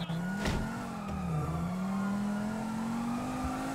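A car in the video game GTA (NoPixel roleplay) pulls away, its engine droning loudly and climbing steadily in pitch as it accelerates, with a brief knock near the start and no talk.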